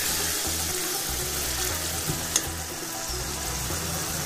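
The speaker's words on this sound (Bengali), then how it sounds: "এখন এই মশলাটা কষাবে।" Masala paste of ground cumin and ginger sizzles steadily in a pan, a loud continuous frying hiss with faint stirring, close and without speech.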